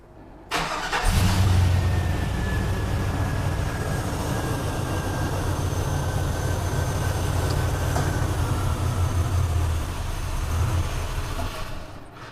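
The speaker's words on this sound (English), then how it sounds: "I'm just going to start the truck and then pull that out and let it die" A 2000 Chevrolet Silverado with a 5.3L V8 and ported intake starts with a sudden burst and runs at a steady, close rumbling idle for about ten seconds before fading as it dies, with no talking.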